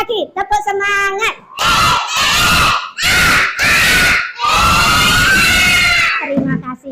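A classroom of schoolchildren repeats the rhythmic 'tepuk semangat' chant, shouting loudly in several sharp bursts with clapping between them after a brief adult cue.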